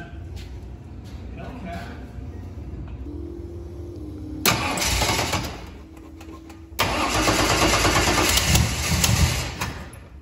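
A 1973 Chevrolet Vega hatchback being worked on, with a fresh header and gasket and an exhaust leak. It cranks and then fires up loudly, settles briefly and roars again, running rough and close with a leaky exhaust.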